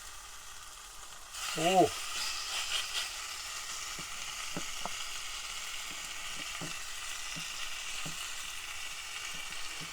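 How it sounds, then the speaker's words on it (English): Steady sizzling of meat frying in a pan, a continuous crackling hiss throughout, with a brief exclamation near the start. "hope you can hear over the sizzle of the meat"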